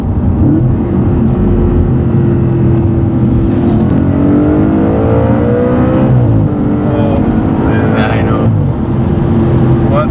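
A loud Audi RS5 V8 engine drones steadily up close, its pitch climbing and dropping through high-rev gear shifts as it accelerates, with voices talking underneath.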